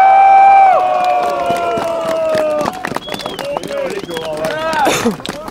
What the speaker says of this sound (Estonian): Aplaus teile!